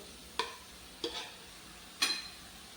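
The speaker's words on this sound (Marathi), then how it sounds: "हे बघा चांगले हे मिश्रण आपण ढवळून घेऊया" Soya chunks being stirred into an onion masala mixture: three distinct scraping strokes of a spoon against the pan over a faint sizzle, close and quiet with no talking.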